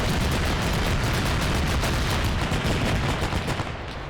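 Dense, sustained gunfire from a WW2 St Nazaire raid battle game, a loud unbroken barrage of overlapping shots with heavy booming low end, easing slightly near the end.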